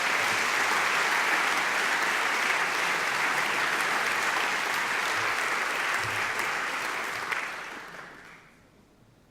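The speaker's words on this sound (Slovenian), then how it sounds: "hvala za vaš bronast aplavz" A large audience applauds at the Slovenska gazela 2018 awards ceremony, with dense sustained clapping filling the hall that fades out over the last two seconds.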